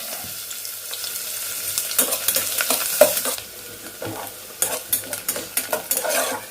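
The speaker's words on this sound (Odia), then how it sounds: "ଦେଖୁন ପିଆଜ ବି ଅଧା ଅଧେ ଲାଲ ହେଇ ଆସିଲାଣି" Onions, green chilli, dry red chilli and hing frying in oil for dal, a steady sizzle with bursts of scraping as a spoon stirs the pan, close and fairly loud, with no talk.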